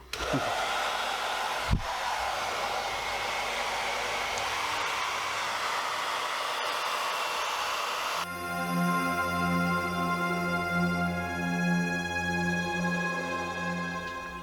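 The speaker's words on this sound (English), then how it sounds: "I'm going to use my hairdryer here." A hair dryer blowing steadily and close by while heating an old model being stripped and restored, a constant rushing whoosh that shifts to a higher, more tonal whine partway through.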